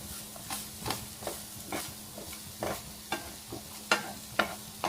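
Beetroot stirred and lightly fried in a pan for a Kerala beetroot chammanthi, with a steady low sizzle broken by repeated scraping strokes of the spoon at a regular, unhurried rhythm.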